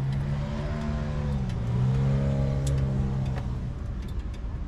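A turbocharged car engine with a 78 mm turbo, making 734 horsepower and 758 foot-pounds of torque, revs up and down in a steady, loud, throaty drone, with faint ticking over it and no talk.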